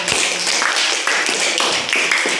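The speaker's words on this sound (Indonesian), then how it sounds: "Kita beri aplaus untuk 3 kelompok" Classroom applause for three student presentation groups, a dense, steady patter of many hands clapping close by, lasting a couple of seconds.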